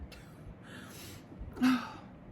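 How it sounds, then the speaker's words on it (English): A single human sneeze, preceded by a couple of soft breathy intakes, with the sharp burst near the end; close and fairly quiet, without speech. "I just totally had a sneeze attack"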